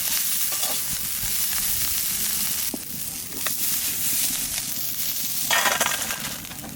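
Shrimp sizzle steadily as they fry in a pan, a dense continuous hiss with brief stirring clatters and a louder flare of sizzling near the end.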